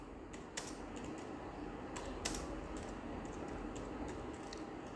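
Steady typing on a computer keyboard while writing HTML code, a continuous run of close, soft key clicks with a few louder taps, heard alone over a faint background hum.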